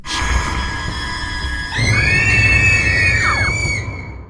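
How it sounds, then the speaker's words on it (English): A floating, pajama-wearing girl in the video game Slenderman's Annoying Children lets out a loud, piercing, sustained scream that rises and wavers for about two seconds over a steady high electronic tone, with no talking. "a floating pajama-wearing girl that screams on the top of her lungs when she runs into you"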